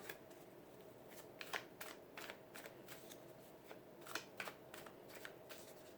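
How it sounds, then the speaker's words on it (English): Soft riffling and snapping of a tarot card deck being cut and handled, with a scatter of brief, quiet card flicks and slaps over a low background hiss. "I'm going to cut the deck."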